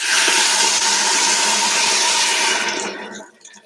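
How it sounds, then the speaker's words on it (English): A steady, loud rush of water pouring into a cooking pot runs for a few seconds close by, then stops abruptly. "I'm gonna add a little bit of water."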